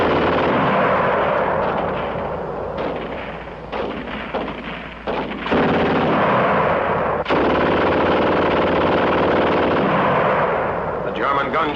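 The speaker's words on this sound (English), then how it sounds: "The German gun shoots fast." A German machine gun fires in rapid, sustained bursts, loud and dense, with brief pauses between volleys and other battlefield gunfire mixed in.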